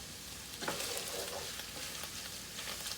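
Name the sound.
beef and broccoli stir-fry sizzling in pan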